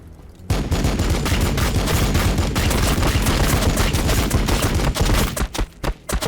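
Loud, dense gunfire from the video game Warhammer 40,000: Battlesector rattles almost without a break for several seconds. It breaks into a few separate bursts at the end.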